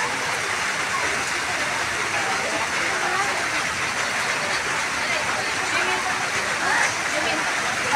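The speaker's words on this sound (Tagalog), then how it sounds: "Sobrang lakas ng nabagsak ng tubig doon galing sa falls sa taas." Heavy brown flood water pours down from a waterfall in the rain, a dense, steady roaring wash that fills the whole stretch without pause, loud and close.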